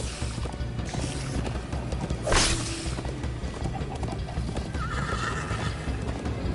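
Horses gallop with rapid rhythmic hoofbeats in Minecraft Story Mode, and one horse gives a sharp, loud whinny partway through before another shorter neigh rises later over the pounding gallop.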